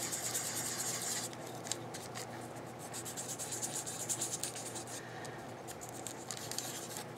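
Close, faint rasping of an emery board rubbed back and forth over paper for embossing, a continuous scratchy texture with quick irregular strokes and no talk.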